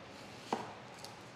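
A knife cuts the tail off an onion with one crisp, close chop, then a faint second tap in an otherwise quiet kitchen.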